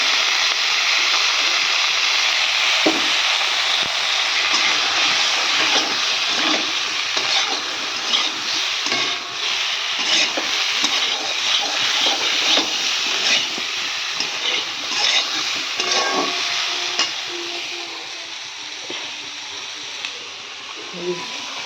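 Stir-frying in a pan just after turmeric goes in for a Bengali cauliflower and fish curry: steady close sizzle with scraping spatula strokes throughout, rising and falling as the food is turned.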